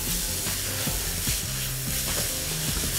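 Chopped vegetables salted in a hot pan sizzle and fry steadily as they release their water, a continuous close hiss with occasional stirring, no talk.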